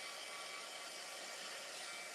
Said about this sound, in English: So I'm going to hit it briefly with my heat tool